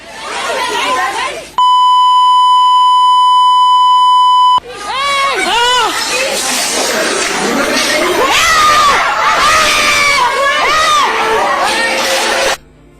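Girls scream in fear as a masked mob storms a JNU hostel: loud, chaotic screaming and shouting from a crowd, with voices talking, cut off by a long steady censor bleep.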